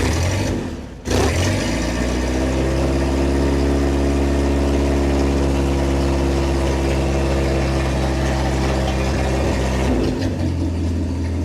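A 1958 Willys DJ engine catches after a brief cranking burst and settles into a steady, rumbling idle, loud and close, with no one speaking over it.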